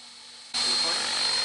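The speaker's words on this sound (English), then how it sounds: "The rest of this video will be a beautiful flight of our helicopter." An unmanned helicopter from a university drone team flies with a sudden loud, steady whine and rotor roar that starts about halfway in and holds at full volume to the end.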